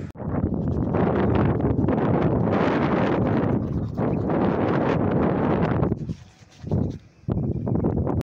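Strong outdoor wind buffeting the microphone, a loud continuous roar that briefly drops away near the end before returning.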